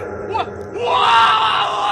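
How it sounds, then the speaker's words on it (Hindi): An echoing death scream effect rises into a long, loud, reverberant wail after a brief groaning cry, heard alone over a dark haunted-fort ambience. "एक ही किले में इतने बड़े कत्लेआम के बाद वहाँ मौत की चीख गूंज गई"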